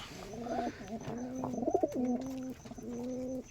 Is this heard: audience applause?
no